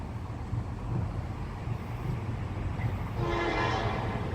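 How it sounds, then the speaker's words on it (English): A CSX freight train rumbles low and steady as it approaches, then its horn sounds near the end, a sustained tonal blast over the rolling noise. "Yeah, that's a freight train, all right."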